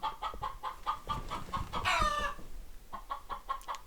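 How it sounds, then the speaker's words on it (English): A loud chicken clucks repeatedly in a steady rhythm near a K5 Blazer under roll cage construction, with a brief louder squawk midway and faint workshop background noise. "Got a loud ass chicken."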